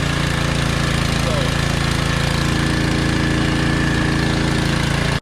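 An old junkyard truck engine runs steadily and loudly close by, a constant rough idle with a low knocking hum throughout and no pauses, ending abruptly.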